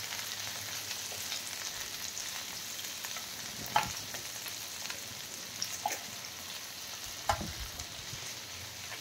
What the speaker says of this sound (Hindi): जह्नी तो एमती 2-3 मिनिट रे आराम से जह्नी तेल रे सीझीब।